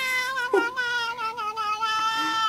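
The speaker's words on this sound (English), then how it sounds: "it's a cute cat" A cat meows in a long, drawn-out, wailing cry, close and clear, with a short break midway and no talking.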